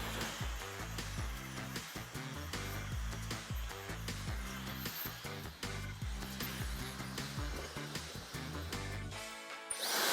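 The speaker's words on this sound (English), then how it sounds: "just by blow drying the hair here" A hair dryer blows steadily on a haircut client's hair, its broad airy roar partly masked by rhythmic background music that runs throughout.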